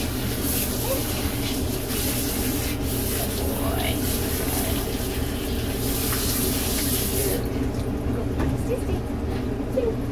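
Steady running water hisses and sprays without a break while a 4.5-month-old Papillon puppy is bathed, with a person talking over the constant rushing sound.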